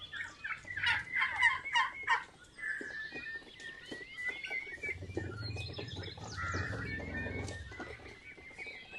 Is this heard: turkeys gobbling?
yes